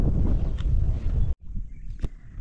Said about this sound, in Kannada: ಗಾಳಿ ಜೋರಾಗಿದೆ